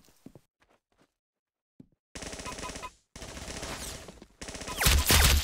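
Rapid automatic gunfire in the Roblox shooter Arsenal comes in loud, close bursts, each a dense rattle of shots, the last one the loudest, after a few faint taps and footsteps at the start.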